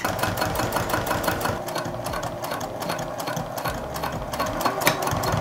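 A sewing machine top stitching a zip tote runs in a steady, rapid mechanical chatter throughout, moderately loud and close, with no talking over it.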